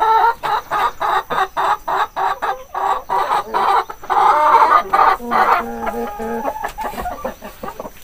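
Hen clucking in repeated rhythmic bursts, close and clear, at a poultry setup in Uttarakhand, with a few longer drawn-out cackles toward the end and no talking.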